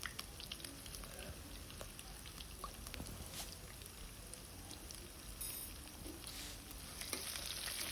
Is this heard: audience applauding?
no